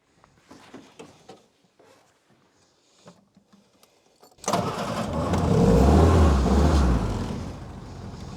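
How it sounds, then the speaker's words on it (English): A WW2 Willys Jeep with a troublesome carburetor catches after a few quiet clicks and fumbling sounds, then roars loudly to life. It revs up and settles into a rough, close idle. "Now let's see if you want to start up and actually drive away smoothly"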